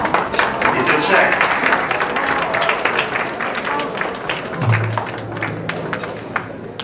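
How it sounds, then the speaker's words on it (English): An audience at an evening gala event named One Night in UN gives a steady round of dense, continuous clapping for several seconds, with voices speaking over it. "Round of applause, please."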